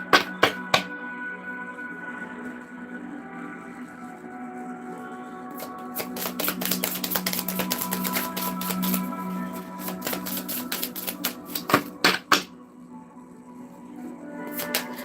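Tarot cards being shuffled, a riffle of rapid dense clicks building in the middle, with a few sharp taps at the start and end.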